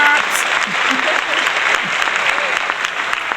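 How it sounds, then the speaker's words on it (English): Sustained applause from a studio group, dense continuous clapping held for several seconds, loud and close, with voices mixed in underneath. "If you don't give me my goddamn claps"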